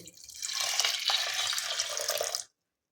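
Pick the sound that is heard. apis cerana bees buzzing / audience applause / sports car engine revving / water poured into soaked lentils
water poured into soaked lentils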